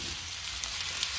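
Thyme frying with onions and garlic in a pan gives a soft, continuous sizzle, quiet and even throughout with faint crackles, and no talk over it.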